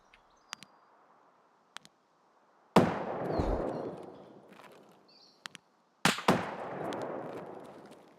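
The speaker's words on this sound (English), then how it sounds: "he's shooting at me" Gunfire in the Escape from Tarkov shooter: two loud, booming shots several seconds apart, each ringing out with a long echoing tail, between faint ticks and clicks.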